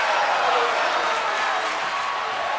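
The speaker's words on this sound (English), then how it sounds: "Crowd chanting, "This is awesome!"" A wrestling crowd at a live event roars without a break, a dense, loud wash of many voices that sounds like a sustained chant across the whole stretch.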